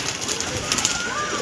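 Pigeons at a home loft of tournament birds, soft cooing rising faintly through a constant hiss of background noise, with a few brief brighter calls near the middle.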